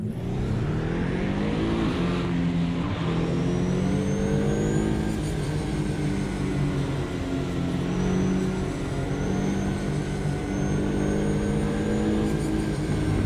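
A Ligier JS P4 race car engine at Watkins Glen in the AMS2 racing game drones loudly and continuously, pitch climbing and falling through repeated gear changes as the car accelerates and lifts around the track, with no talk over it.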